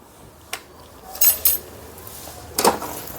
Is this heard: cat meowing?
no